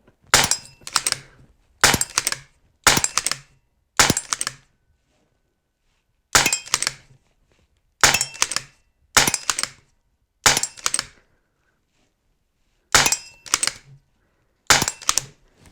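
Shots fired from a magazine at a steel target, with ten sharp reports in irregular clusters across about sixteen seconds, each loud, crisp and ringing, with silent gaps between them and no talk.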